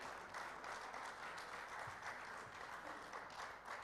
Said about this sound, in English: A big round of applause for Vivek and his team.